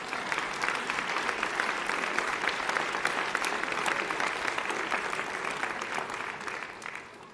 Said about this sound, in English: That's a clapping thing.